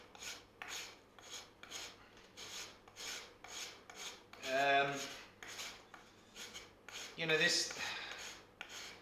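A hand rasp takes the corners off a wooden tumbi neck in a run of rhythmic scraping strokes, close and fairly soft, with a couple of harsher catching strokes. A voice is briefly heard.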